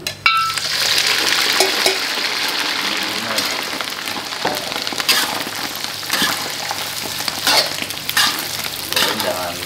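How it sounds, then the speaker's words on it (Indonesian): Chili peppers frying in a pan, a steady dense sizzle with stirring scrapes and clinks of a utensil running throughout, close and fairly loud, with faint talk in the background. "Kita goreng dikit ini guys supaya lebih"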